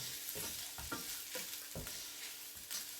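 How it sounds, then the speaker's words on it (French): Autumn risotto with chestnuts and squash is stirred in a pan, a spoon scraping in a steady rhythmic series of soft strokes over a constant gentle sizzle, close and fairly quiet, with no voices. "Donc on mélange bien le tout."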